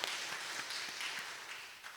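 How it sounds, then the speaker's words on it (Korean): Congregation applauding together in a church worship service, a steady wash of many hands clapping at moderate distance with no speech over it. "하나님 영광의 박수 드리겠습니다"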